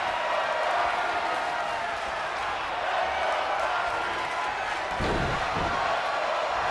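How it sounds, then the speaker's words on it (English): A wrestling arena crowd in the video game WWE 2K25 keeps up a steady, loud roar of cheering throughout, with a brief thump or slam near the end. "Seems the crowd is behind Roxanne"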